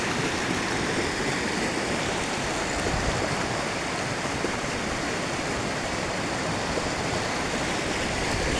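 Water flows at the meeting point of two rivers, a continuous, full rushing roar that stays steady and even throughout with no voices.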